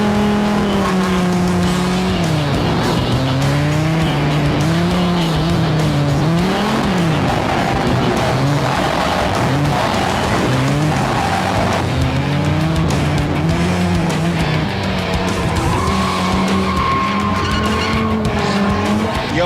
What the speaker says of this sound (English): he got to sit shotgun, sliding sideways with professional drifter Tarzan